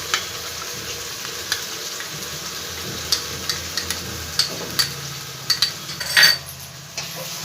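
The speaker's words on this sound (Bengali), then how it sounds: "খুব ভালো করে এবার মশলাটাকে আমি ভেজে নেব যতক্ষণ না মশলাটা থেকে তেলটা ছেড়ে আসছে।" Ground spice paste frying in hot oil for a green banana kofta curry, a steady close sizzle broken by sharp scrapes and clinks of a spoon stirring against the pan, no talking.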